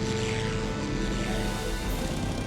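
Drone of a Devastator torpedo bomber's propeller engine, a steady, loud, continuous hum holding at a constant level throughout with no voices.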